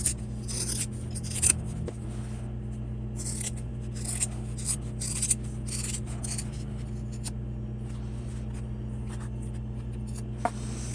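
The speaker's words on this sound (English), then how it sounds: "Now I'm gonna go and trim on the thick area right here." Scissors snip and trim through a thick, layered area of a fabric card wallet, giving repeated close, crisp cuts over a steady low hum.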